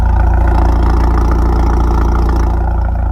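Steady idle from a 2016 Ford Focus RS, a deep constant engine hum with a fine rhythmic throb and slight rattly texture, heard up close and uninterrupted by speech.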